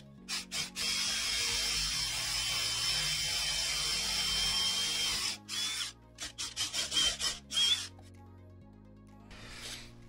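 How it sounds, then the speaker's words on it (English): A handheld electric drill with a 20mm Forstner bit bores into wood, giving a long steady grinding whir, then a series of short stop-start bursts, and a final brief spin. "So I've got a 20mm Forstner bit put in my drill."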